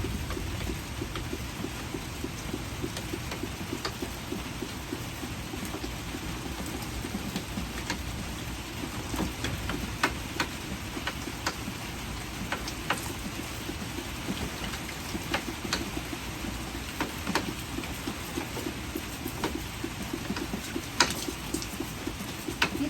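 Steady rain pours down, a dense continuous hiss with scattered sharper drops striking a surface, no voices.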